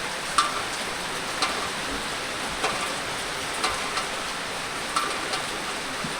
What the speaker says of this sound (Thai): บรรยากาศฝนตกแห้งๆนะทุกคนนะ